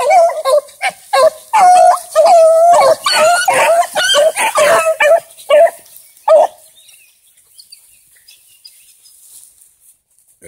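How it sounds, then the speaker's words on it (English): Several dogs bark and yip loudly and close by in quick bursts for about six seconds as they run across a yard, then the barking stops and it goes nearly quiet. "See where the dogs come across."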